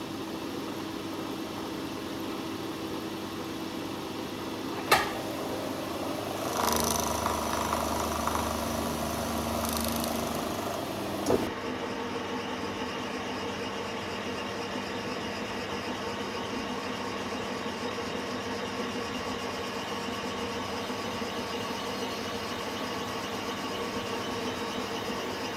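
A lathe takes a final turning pass on a DIY piston, a steady mechanical hum with a few sharp clicks and a short louder cutting stretch early on.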